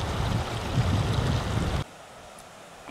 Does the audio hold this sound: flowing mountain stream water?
yes